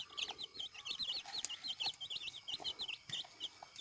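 A native hen calls to her ten-day-old chicks, and a quick run of thin, high peeps repeats over faint low clucking. The sounds are soft and somewhat distant.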